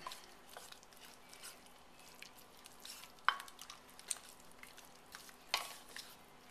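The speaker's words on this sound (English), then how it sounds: "So we're going to stir these in and let it sit for another 5 minutes before we serve it up." Corn tortilla strips stirred into a thick soup in a pot, a soft, faint wet churning with a couple of light utensil taps against the pot's side.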